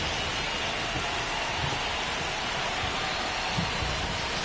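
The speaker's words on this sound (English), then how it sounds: "This rain is not letting up" Steady heavy rain pours onto a baseball stadium. The hiss is dense, loud and unbroken, and no voices can be heard over it.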